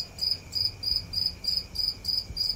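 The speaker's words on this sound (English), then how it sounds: "we raise Acheta domesticus, which is also known as the common house cricket" Common house crickets (Acheta domesticus) chirp in a steady, even rhythm, about three short bursts per second, clear and fairly close with no other sounds.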